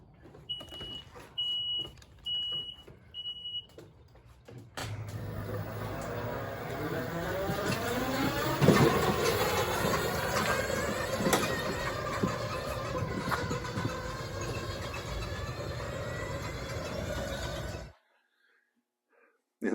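A Ryobi Zero 48v lithium-battery electric riding mower, once fault-prone and not starting, beeps a few times and then drives off with a steady electric whine and rolling noise that continues for several seconds before stopping abruptly.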